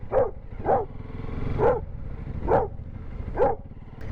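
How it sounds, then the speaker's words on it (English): A dog barks in a city street, six hoarse, evenly spaced woofs about a second apart, close and moderately loud over low traffic rumble. "It's always fun when a dog does that in a city."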